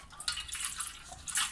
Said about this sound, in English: take your regular milk and pour it in